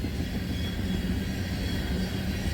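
The CSX W009 FRA track inspection train passes on the line between Grafton and Wellington, a steady, heavy low rumble with rolling rail noise that holds at constant loudness throughout.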